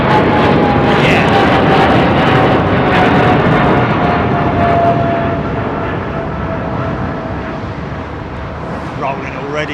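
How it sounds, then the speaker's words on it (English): An airliner at take-off thrust rolls down Heathrow runway 09R, a loud close roar of jet engines that gradually eases and fades as it moves away. "Rolling already, look. Take off thrust set."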